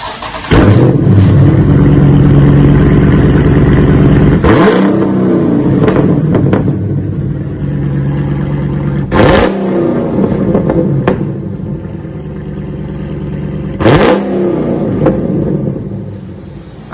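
A 2015 Dodge Scat Pack with the rear resonators and mid mufflers removed revs hard, its loud, deep exhaust roaring from idle into three sharp throttle blips spaced several seconds apart, close and unaccompanied.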